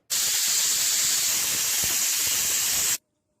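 A loud, steady hiss of escaping steam from a pressure cooker whistle, cooking chicken biryani, blasts for about three seconds, then cuts off abruptly into silence.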